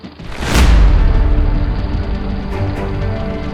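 A single loud firecracker boom erupts near the start, followed by a sustained low rumble and crackling noise that lingers to the end.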